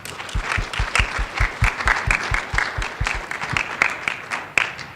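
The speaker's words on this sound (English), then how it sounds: "I'd like to get another round of applause for all the speakers today" A modest conference audience claps for the day's speakers at a rangeland ecosystem talk, sparse, uneven hand claps with soft thumps, fairly close and moderate in volume, with faint murmuring.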